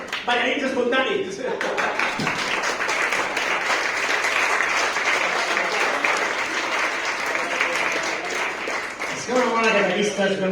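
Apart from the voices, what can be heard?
audience applause for spontaneous dancers at a concert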